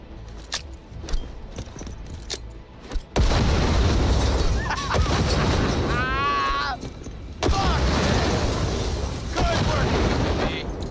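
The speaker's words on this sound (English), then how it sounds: "Grenade." A loud grenade blast in Cyberpunk 2077, a heavy boom breaking in about three seconds and sustaining a dense roar of fire and debris, with synthetic chirps and voices mixed in.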